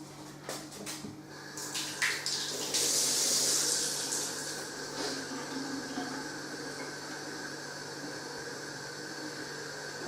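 Water running steadily from a tap to top up homemade black cherry wine to 4.5 litres, a continuous hissy flow that swells briefly, then settles into a softer, even stream with no voices.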